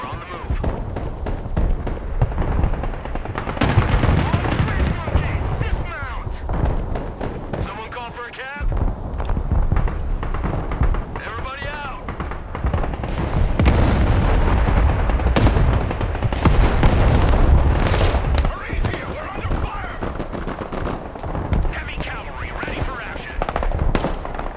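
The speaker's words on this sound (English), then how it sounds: "Artillery." Artillery fire in the video game Broken Arrow: loud, repeated booming blasts and rumbling explosions fill the whole stretch, some sharp reports stacked close together, with a player's voice talking over the barrage at times.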